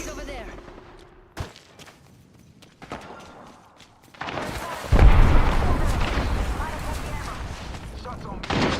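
Bursts of gunfire in the battle-royale video game Apex Legends, scattered shots early then a loud sustained barrage of overlapping shots and booms from about five seconds on, with a player talking intermittently.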